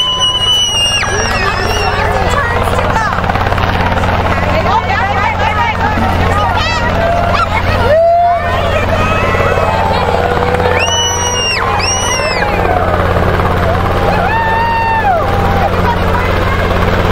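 A helicopter hovers and flies over an Easter egg drop at a church event in Sutton, Massachusetts, a loud steady rotor drone under a lively crowd of chattering and shouting people, with children's excited squeals rising above it.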